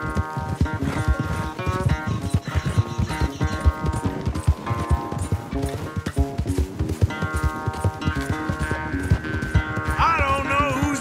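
Hooves of several horses clatter in a fast, steady gallop during a race in the video game Red Dead Redemption 2, loud and continuous, with music and game sounds underneath.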